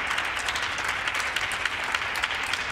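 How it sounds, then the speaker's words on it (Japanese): Steady audience applause at a table tennis match, a continuous wash of clapping for player Samara, moderately loud and sustained with no voices. "拍手をしてサマラに声援を送ります。"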